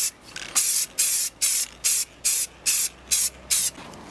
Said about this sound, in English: The next step is to spray the whole mask a copper colour.